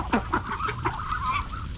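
Ducks honk in a quick series of nasal calls, several overlapping close-by voices over a low background rumble, with no one speaking.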